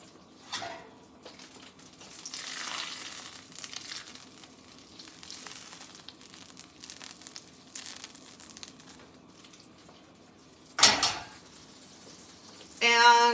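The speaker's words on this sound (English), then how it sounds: "So throw this garlic in with the butter" Garlic cooks in butter in a pan on the stove for a holiday dinner, a quiet, steady sizzle with crinkling and a sharp clatter partway through, and a brief louder noise at the end.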